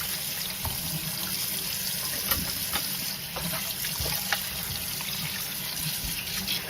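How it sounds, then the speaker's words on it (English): Cold tap water splashes steadily over a fish being rinsed in a sink, a constant close hiss with occasional drip and splash accents, no talking. "And we're rinsing it with cold water."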